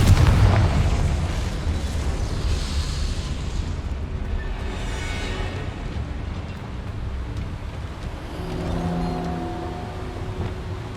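A Confringo spell blast in Hogwarts Legacy booms loudly at the start, then decays into a long rumbling roar with crackling debris, settling into a low steady wash with faint tonal hums near the end.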